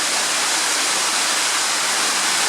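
Steady, loud roar of an underground waterfall in the Riese tunnels at Ludwikowice Kłodzkie, a continuous broadband rush of falling water filling the space with no pauses.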